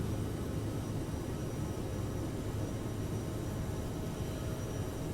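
An Aerosoft CRJ900 jet in Microsoft Flight Simulator 2020 climbs away after takeoff, its engines giving a steady, loud, broadband roar that holds unchanged throughout, with no talking.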